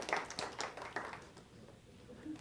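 Audience applause for a sound technician at a symposium, a brief burst of scattered hand claps fading over about a second into quiet room tone.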